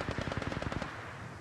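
A rapid automatic burst of about fifteen gunshots from a weapon in the mobile shooter Apex Legends Mobile, evenly spaced and close, ending abruptly with a short fading tail.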